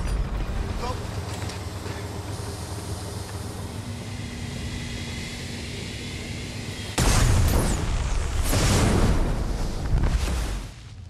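A steady rumbling background in a film suddenly gives way to a loud, booming tank explosion caused by a system fault, roaring for several seconds before dying down.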